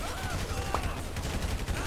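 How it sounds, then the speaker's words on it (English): Rapid gunfire bursts in GTA 5 during a heist mission, a dense, close run of crackling shots with a brief sharp ring partway through, and a voice talking under it. "shooting feels so really good in GTA 5"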